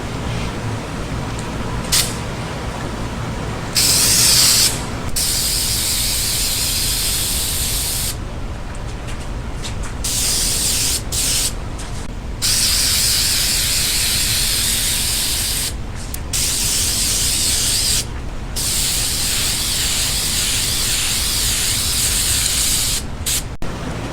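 Steady hiss of Herculiner bedliner being sprayed over the fiberglass shell of a Buick Skylark, loud and close, running in long continuous bursts with brief pauses between passes.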